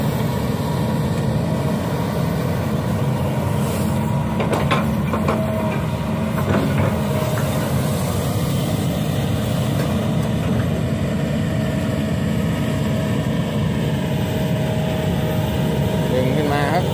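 The engine of a Kobelco SK200 Super XM excavator runs at full throttle with a loud, constant mechanical roar and a few faint clanks on top.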